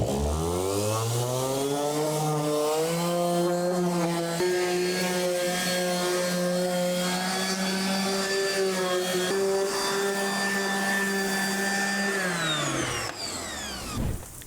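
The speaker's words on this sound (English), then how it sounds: "So quick light sanding, 220 orbital sander, just past the surface." A 220-grit orbital sander runs lightly over deck wood, a steady loud electric whine that rises in pitch as it spins up, holds evenly, then winds down near the end.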